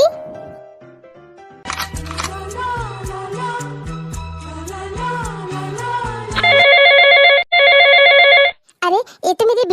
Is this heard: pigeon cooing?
no